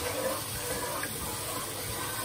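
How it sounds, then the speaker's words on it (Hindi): Water pours into a pan on the stove to make sugar syrup for semolina halwa, a steady close hiss and splash that runs unbroken for a couple of seconds with no speech. "हमने अपना शीरा जो है वो प्रिपेयर कर रहे हैं पानी ऐड करेंगे और ये अपनी चीनी को मेल्ट कर देंगे"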